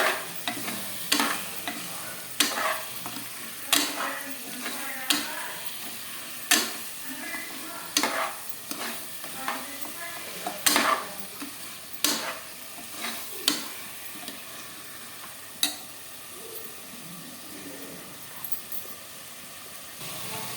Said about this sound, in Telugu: ఇప్పుడు మటన్ బాగా ఫ్రై అయిపోయింది, ఆయిల్ అంతా బయటకు వచ్చింది